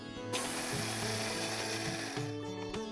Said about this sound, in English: I'm going to start with grinding the cashew nuts